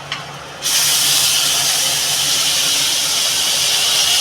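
Spice paste of garlic and ginger drops into hot oil with whole cumin for a Bengali pomfret dish, bursting after a quiet half-second into a loud, steady, broadband sizzling hiss that holds to the end.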